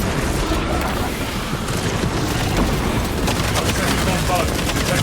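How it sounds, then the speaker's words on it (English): Dense, continuous battlefield din from Warhammer 40,000: Space Marine II, with a crack grenade blast and rapid gunfire rolling together in a loud wash against Tyranid enemies; a voice speaks briefly over it. "Deploying crack grenade."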